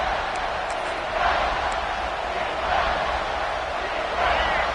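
A packed stadium crowd at an NC State football game roars in a broad, continuous wash of noise that swells a little at moments.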